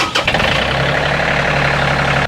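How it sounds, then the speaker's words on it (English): A tractor engine catching and settling into a warm-up idle, a brief rough start followed by a steady close low rumble that runs loud and continuous, no talk. "Let's go get the tractor warmed up"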